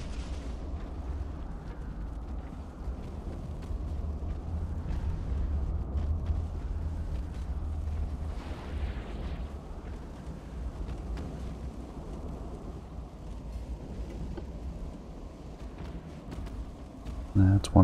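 Torpedo hits exploding against warships in the naval battle game Ultimate Admiral: Dreadnoughts, with a heavy, continuous low rumble of blasts and sea noise swelling through the whole stretch and a sharp burst right at the end.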